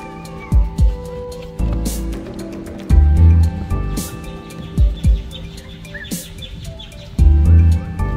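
Two birds chirp intermittently amid rustling and thumping handling noises close by.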